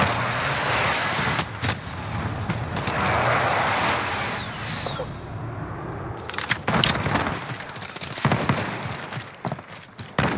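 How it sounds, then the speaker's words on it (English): Airstrike explosions in the video game Modern Warfare: a sustained, loud rumble of heavy blasts and rolling booms, followed by a volley of sharp gunshot cracks. "friendly position airstrike inbound"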